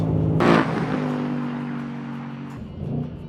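A 2024 Ford Mustang GT S650 accelerates hard through a no-lift shift during a drag race, its V8 engine roaring loud and near. The pitch climbs, then breaks briefly at the shift before the engine pulls on.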